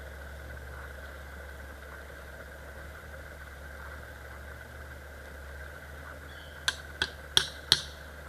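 A small air pump blows a steady mechanical hum into a homemade forge, and a few sharp ticks sound near the end.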